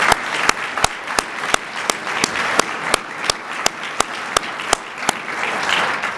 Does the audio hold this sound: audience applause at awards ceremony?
yes